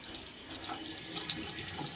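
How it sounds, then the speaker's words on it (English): Hot water runs from a tap into a sink with a steady splashing gush, close by and moderately quiet, a few brighter splashes standing out. "Right, we got the hot water on."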